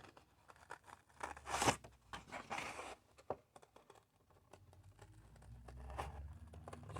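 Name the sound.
scissors cutting out paper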